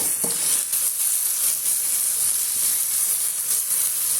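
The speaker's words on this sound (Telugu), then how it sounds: "కడిగి పెట్టుకున్న కరివేపాకు వేసుకొని మంచిగా ఫ్రై చేసుకున్నాము" Curry leaves and sliced onions fry in hot oil with a continuous, close sizzle, a brief crackle near the start, then an even bubbling hiss throughout.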